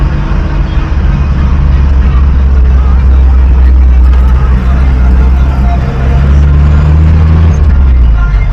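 Busy street traffic in Alexandria, Egypt, at an unsignalled central junction: a steady, loud rumble of cars, buses and trucks close by, with engine drone and passing vehicles throughout and voices mixed in.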